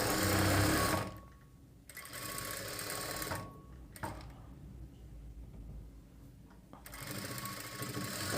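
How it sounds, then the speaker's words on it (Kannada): A sewing machine stitches the side seam of a plain blouse in three close, steady runs of whirring, separated by brief pauses. "ಈ ರೀತಿ ಸೈಡ್ ಕಟ್ ಮಾಡಿ ಸೈಡ್ಗೆ ಒಂದು ಹೊಲಿಗೆನ ಹಾಕ್ಕೊಳ್ಳಿ"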